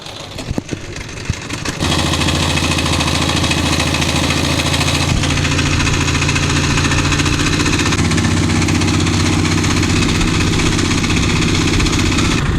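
A trawler boat engine running on the Meghna river: after a brief start, a loud, steady, close diesel drone holds without a break, with constant vibration and no talk.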